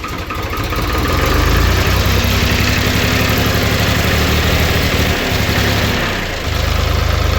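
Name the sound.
David Brown 3 cylinder tractor engine running after fuel bleeding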